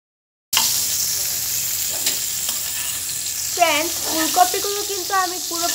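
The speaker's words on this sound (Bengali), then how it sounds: "এখন আমি এতে ফুলকপিগুলো দিয়ে দিব।" Cauliflower pieces going into hot oil in a pan, a steady frying hiss with occasional clinks of stirring, joined by a brief bright squeaky scraping near the end.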